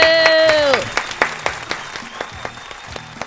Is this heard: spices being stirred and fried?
no